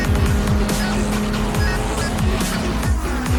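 Race cars in a racing video game at Le Sarthe, engines roaring loud and close as they accelerate, with rapid rising gear-change sweeps repeating through the run.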